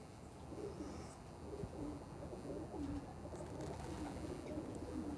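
A pure Shaheen pigeon coos in low, repeated throaty phrases at a steady pace, fairly close, over a soft constant background hum.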